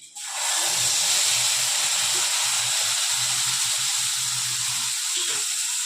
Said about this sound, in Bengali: হলুদ আধা চামচ দিয়ে জলে গুলে গরম তেলের মধ্যে ছেড়ে দিচ্ছি